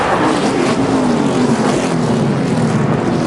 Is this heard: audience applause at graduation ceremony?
no